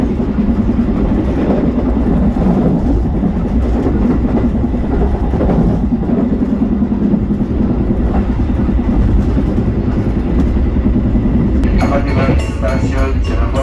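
Interior of an Indonesian passenger train travelling between stations near Cirebon: a loud, continuous low rumble and rail noise with faint clacking, and voices chattering near the end.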